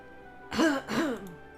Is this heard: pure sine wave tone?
no